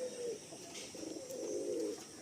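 Pigeons in a loft housing Madrasi and Giribaj birds coo softly and continuously, layered low warbling calls over a faint steady background hum.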